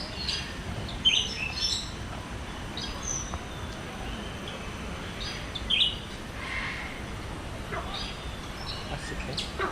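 Small birds chirp and call intermittently inside the Wings of Asia aviary at Jurong Bird Park, scattered tweets over a steady background hum of the enclosure, with faint talk mixed in.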